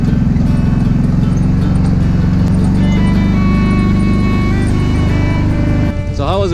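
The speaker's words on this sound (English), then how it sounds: "First test with the tires, and see how the family likes the ride with the little suspension." An ATV engine drones steadily while towing a trailer fitted with small suspension, a loud, close, continuous motor hum with faint rattles near the end.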